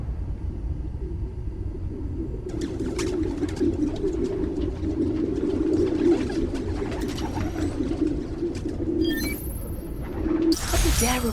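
Low, dense cooing of a flock of pigeons fills a park in Spider-Man: Miles Morales, a continuous murmuring rumble with brief higher chirps and clicks layered over it toward the end.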